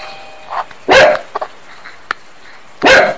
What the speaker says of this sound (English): I'm sorry, the dog's barking because the doorbell's gone off.